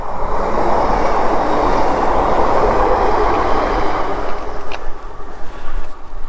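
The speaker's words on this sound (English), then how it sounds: "there's the local train." A local train on the line along the Exe Estuary rumbles past close by, a loud sustained roar with rhythmic rattling that eases slightly toward the end.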